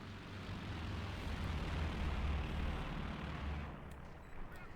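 A Stuka dive bomber in Company of Heroes 2 roars as a dense, steady wall of rumbling engine noise and explosive blasts, loud throughout and easing slightly toward the end.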